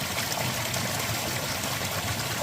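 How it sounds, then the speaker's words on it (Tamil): Water rushes and trickles steadily along an irrigation channel toward a sesame field, a continuous close hiss with no voices. "தண்ணி பாருங்களேன் அப்படியே வாய்க்கால்லேருந்து எள்ளுக்காட்டு போயிட்டுருக்கு"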